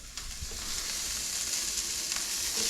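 Asparagus browning in butter-free hot pan on its second side, giving a steady, close sizzle of frying that holds evenly throughout with no talking.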